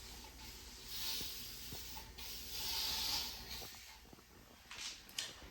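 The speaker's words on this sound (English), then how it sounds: "I'm just gonna spray this thing up, clean it" Several short hissing bursts of cleaner sprayed in a bathtub, faint and close, with soft rubbing and clicks between sprays.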